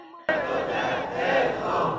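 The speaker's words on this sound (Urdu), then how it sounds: "کنونشن میں شریک ورکرز نے پرجوش نعرے لگا کر امیر جماعت اسلامی کا استقبال کیا" Jamaat-e-Islami convention workers raise loud, enthusiastic slogans in unison to welcome their party leader, a dense crowd roar that bursts in suddenly and holds steady at full strength.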